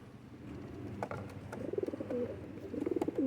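Pigeons coo in a loft, a few soft rolling coos repeating over a faint background, with light clicks and rustles.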